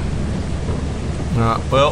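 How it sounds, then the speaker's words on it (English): Steady rain hisses through the whole stretch on a dreary alien planet in Lethal Company, a broad continuous wash with a brief voice speaking over it near the end. "It's raining."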